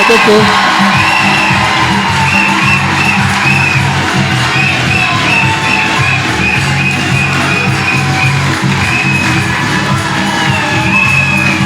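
Guests at a wedding ceremony cheer, whoop and shout continuously, a loud, dense crowd roar with children's shouts and talk mixed in, steady for around twelve seconds.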